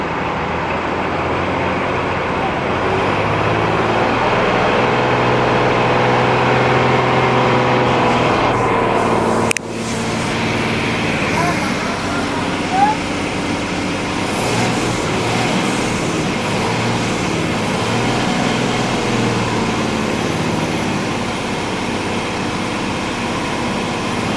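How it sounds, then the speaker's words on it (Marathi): Interior of an MSRTC Shivshahi bus travelling from Pune toward Miraj, with a steady, loud drone of engine and road rumble throughout, a brief dip partway and no talking. "गाडीचा आवाज ऐकला असेल मंडळी तुम्ही स्पेशल शिवशाही बस"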